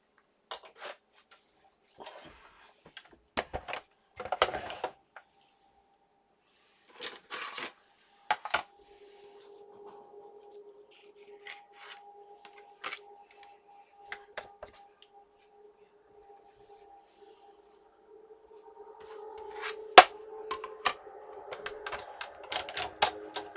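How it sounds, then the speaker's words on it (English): A die cut machine feeds a journal background page through its rollers, giving a steady low whir with faint clicks and thumps of handling before, and louder rustling and mechanical rattling near the end; no one talks. "And I do have my die cut machine here. I'll just run it through"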